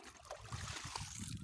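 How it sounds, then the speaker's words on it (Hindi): Water trickles and gurgles steadily into a drum used to mix fertilizer for a hybrid maize field, a soft continuous flow heard up close with no talk over it. "पानी को इस ड्रम के अंदर डाला जा रहा है"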